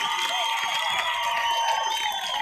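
An audience applauds and cheers for Nashville at a comedy show, a loud, continuous wash of clapping with whoops and shouts and no pauses.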